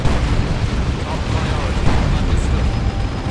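A Manticore rocket artillery strike in the game Dawn of War 2: Retribution lands as a dense, loud, rumbling roar of blasts that fills the short stretch, with a voice talking over it.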